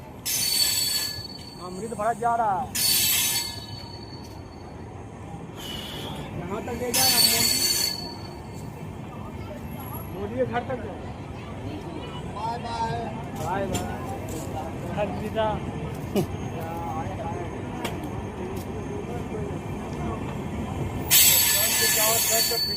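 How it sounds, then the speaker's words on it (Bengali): The Amrit Bharat Express, running from Bhagalpur Junction to Gomti Nagar on its inaugural day, rolls slowly through Jamalpur station with a continuous rumble and repeated high wheel squeals and hissing bursts, while people talk nearby throughout. "ট্রেন আস্তে আস্তে এগিয়ে চলছে তার গন্তব্যপথে"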